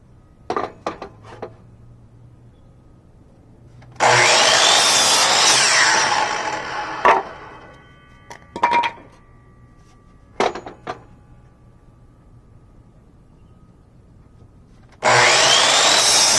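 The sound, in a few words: Porter Cable folding miter saw cutting wood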